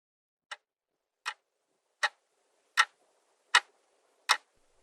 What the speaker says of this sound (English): Captain Hook hears the alarm clock.